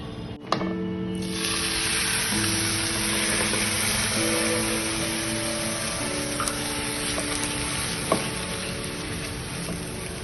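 A cup of milk poured into a pan of roasted grated coconut and ghee, giving a steady, close hiss and sizzle that lasts throughout with faint clinks now and then.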